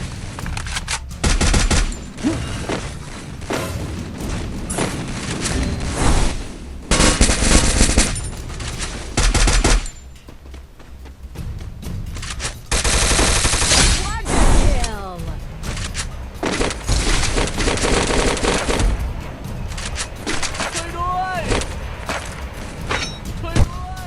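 AK rifle fire in the mobile game Free Fire rattles in long, loud automatic bursts separated by short pauses, with booms and other game effects mixed in under occasional talk.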